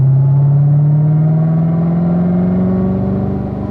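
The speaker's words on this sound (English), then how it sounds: "Squeeze on the throttle there, Stacy. Accelerate." A car accelerates hard down the straight of a driving track, its engine note climbing steadily in pitch as the revs build, loud and close throughout with no one talking.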